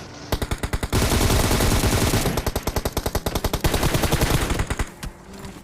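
PUBG Mobile gunfire: loud, rapid automatic bursts of close shots in a fast steady rhythm, running almost the whole stretch with a brief gap near the end.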